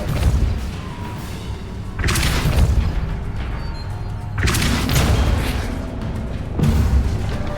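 The Depulso spell cast in the video game Hogwarts Legacy gives a string of heavy, forceful booming thuds, roughly four broad bursts rolling in one after another, loud and close, with no voices.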